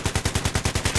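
Automatic rifle fire from the hip in Battlefield 3 comes as a rapid, even burst of about ten loud, punchy shots with a deep thump to each round and no pauses.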